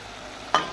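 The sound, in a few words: spice paste (chili, cumin, coriander) frying in oil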